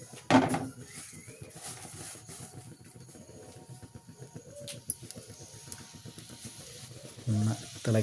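Small pedi fish coated with kanthari chili frying in hot oil give off a steady, hissing sizzle with occasional louder pops and clatters. Faint voices can be heard now and then.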